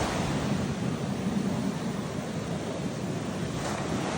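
Ocean surf rolling onto Albufeira beach in Portugal, a steady broadband wash of breaking waves mixed with wind rumble on the microphone, continuous and fairly close with no talking.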